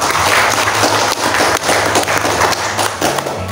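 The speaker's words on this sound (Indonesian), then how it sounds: "Oke, boleh tepuk tangan dulu buat." Audience applause at a soft-skills training session for Umrah marketing staff, loud and steady with dense overlapping claps from a nearby crowd for about three and a half seconds, some low hum underneath.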